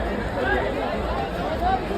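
Crowd at a palkhi procession in Apta Koliwada, a brief murmur of many mingled voices nearby, continuous and moderately loud.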